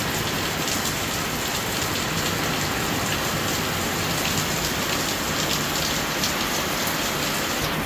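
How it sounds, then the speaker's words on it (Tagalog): Heavy rain pours steadily throughout, a dense, continuous hiss of drops drumming on surfaces, loud and close with no pauses. "grabe yung ulan ngayon"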